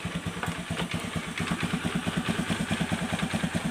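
A carbureted Honda Beat scooter that puffs white smoke from its exhaust runs close by, its small engine putting out an even, rapid pulsing putter that rises slightly as the throttle is blipped, with no talk over it.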